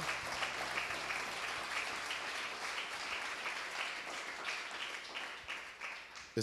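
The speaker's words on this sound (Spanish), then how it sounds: "Démosles un fuerte aplauso, Chaval Chalón." Steady applause from a crowd, a continuous wash of clapping heard at a moderate distance.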